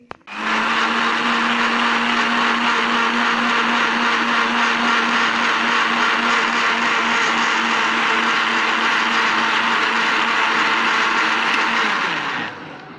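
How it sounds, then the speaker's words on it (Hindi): A kitchen blender whirs loudly and steadily for about twelve seconds, blending a coconut egg halwa mixture with vanilla essence, then winds down at the end; no voices are heard. "और इसको अब मैं ब्लेंड करूँगी।"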